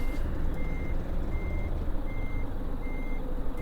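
Steady, evenly spaced reversing beeps sound from a Western Star 4900 truck being parked in American Truck Simulator, over a loud, constant diesel engine rumble.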